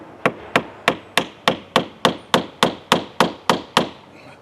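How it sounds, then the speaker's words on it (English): A hammer knocks a piece of scrap wood against the B-pillar door trim of a Chrysler Town & Country minivan, thirteen evenly spaced light taps in a steady rhythm, close and alone. "I'm going to go get a piece of wood and a hammer so I can put up here at the top and gently knock this down a little bit"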